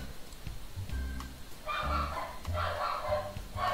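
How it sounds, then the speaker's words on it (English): Repeated barking from a dog, several short bursts in a loose rhythm, moderately loud against a noisy background. "that's my dog barking at possibly anything"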